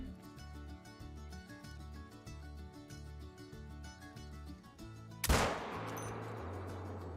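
A single sharp rifle shot from a 6.5 in the Call of the Wild hunting game cracks loud and close over steady background music, then trails off into a brief echo.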